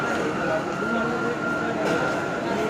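A Mumbai local train rumbles steadily and loudly at Goregaon railway station, a continuous close rail drone with faint squeals, while people talk in the background.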